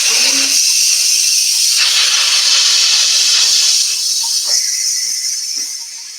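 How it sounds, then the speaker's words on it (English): Steam rushing loudly out of a pot of cooking pasta in a home kitchen, a strong continuous hiss that eases slightly and fades toward the end. "I'm just going to pop over here and release the steam"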